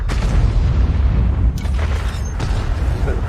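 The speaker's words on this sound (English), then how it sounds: "RHM firing HE. So that's a big gun." Heavy tank cannon firing a high-explosive shell in World of Tanks, a deep booming blast with rumbling low-end follow-through and a second thud partway through, loud and close.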